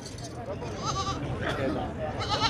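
Goat bleats at a busy goat market in Haripur, heard in short nasal cries under steady nearby talk and crowd noise.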